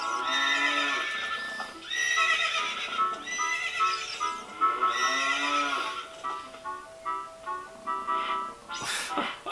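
Horses at a ranch in the Zelda Ocarina of Time video game neigh and whinny again and again, each call loud and close, with faint hoof clip-clops between them.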